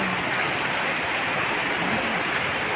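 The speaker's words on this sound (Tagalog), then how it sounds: "Thank you Lord God sa ulan." Steady rain hissing down without pause, a dense even wash of drops at moderate level with no voices.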